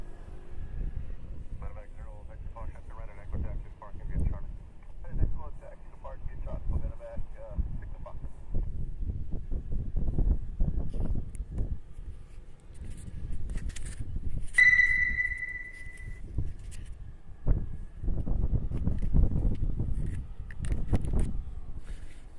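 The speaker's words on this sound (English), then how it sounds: "So as you can tell by the windsock here, it's kind of windy." Gusty wind buffets an outdoor microphone at Honolulu airport, producing repeated low rumbling bursts that swell and fade over the whole stretch, with a person talking in between.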